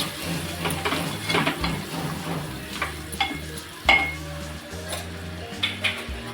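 A spice masala of turmeric, asafoetida, coriander and cumin powders is stirred in a pan for an oyster fry, with a soft sizzle, irregular scraping and clinking of spoon on metal, and one sharper knock near the middle, with no talk.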